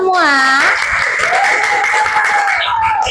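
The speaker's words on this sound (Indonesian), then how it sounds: "Tepuk tangan untuk kita semua." A classroom of children claps together, a brisk wave of applause rising under and after a teacher's sustained, sing-song speaking voice.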